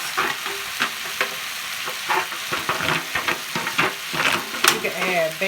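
Sausages and eggs stir-frying for fried rice in a pan, with steady sizzling broken by repeated scraping stirs and the clink of a utensil against the pan.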